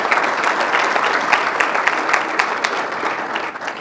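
Sustained audience applause for the judges at an awards competition, a dense wash of many hands clapping steadily and loudly throughout, with no pauses.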